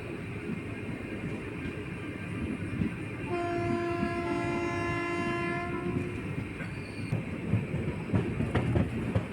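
A train runs on a rail trip from Villupuram to Chidambaram, a loud continuous rumble and clatter of wheels on track, with a sustained horn blast in the middle.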